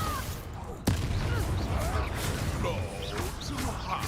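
A Confringo fire spell bursts in a magic video game with a sudden sharp blast, followed by a dense rumbling, crackling wash of effects and music, while a voice talks over it.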